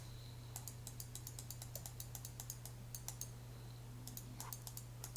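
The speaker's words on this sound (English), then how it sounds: "Loose trigger finger there on the mouse." Rapid mouse clicks during computer map-making, sharp little taps scattered in quick irregular bursts over a steady low electrical hum, close and fairly quiet, with no talking.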